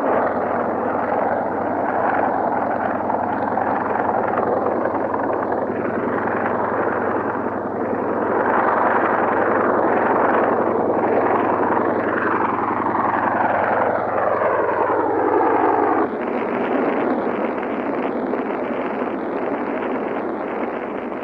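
Loud, continuous helicopter rotor drone with a low thumping hum and a roar that swells and shifts, like a craft passing close overhead amid wind, at the Canyon Creek wildfire.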